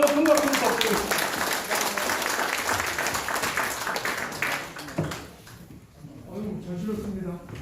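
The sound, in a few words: audience applause after lecture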